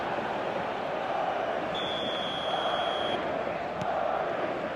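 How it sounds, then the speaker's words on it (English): A big stadium crowd in the football game eFootball 2026 roars after a goal, a steady, loud wall of cheering that rises and holds throughout, with a brief whistle-like tone riding over it. "the roof's just about stayed on, but the crowd level has gone up a notch or 10"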